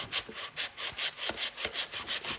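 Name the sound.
sanding anodized aluminum trim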